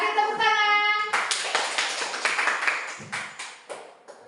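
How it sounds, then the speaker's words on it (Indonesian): Children in a classroom clap together in a short burst of rhythmic claps following a sung or spoken tone, the claps sharp and close, with a brief pause before a few more claps. "Kasih tepuk tangan."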